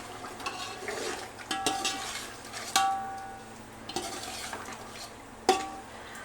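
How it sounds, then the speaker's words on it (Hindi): Chicken and potatoes stirred through masala in a pan for biryani, repeated scraping and clinking of a metal spoon against the pan over a low sizzle, close and fairly loud, with no talking. "अब इसके अंदर बचे हुए मसाले के अंदर हम ऐड कर देंगे यहाँ पर चिकन। अच्छे से इसे भी मिक्स करेंगे।"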